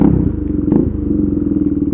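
A modified KTM Duke 390 motorcycle at night, its engine running with a loud, close, rapid pulsing throb and some clattering as the bike pulls away.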